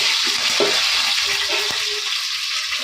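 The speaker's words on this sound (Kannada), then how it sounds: "ಕರಿಬೇವನ್ನು ಹಾಕಿದ್ಲು ಒಗ್ಗರಣೆಗೆ" Curry leaves crackle and sizzle loudly in hot oil with mustard seeds and cumin for tempering, a dense continuous hiss with small pops throughout, no voices.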